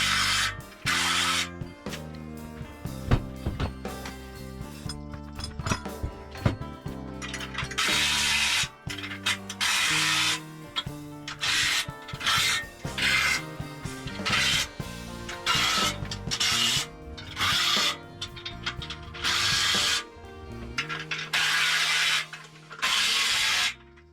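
A ratchet tightens bolts on an English wheel assembly. Rapid clicking comes in repeated bursts with short pauses between them. It is loud and close, with no talking.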